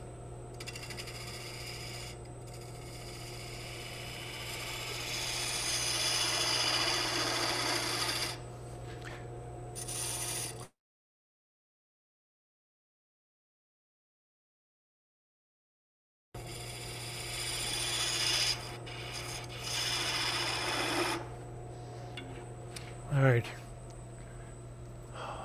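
A woodturning gouge cuts a spinning wood blank on a lathe being shaped into a handle, a continuous rasping scrape over motor hum that swells and fades, broken by a gap of silence and a brief scrape near the end.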